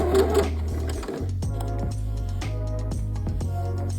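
A sewing machine stitches down a double-sided dart in denim, a close, steady motor hum with a fast rhythmic needle clatter after a brief pause near the start, with no talk.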